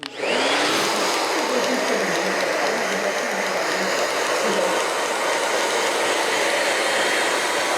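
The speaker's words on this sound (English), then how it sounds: "when I'm blow drying, I like to scrunch as I'm blow drying" A hair dryer blows steadily on hair during a textured fringe styling, a loud continuous whooshing hum that holds nearly unchanged from start to finish.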